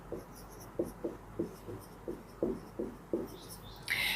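Marker or chalk writing on a board during a trigonometry lesson, a steady series of short scratchy strokes tapping out at a regular pace, close and fairly quiet, ending with a brief louder scrape.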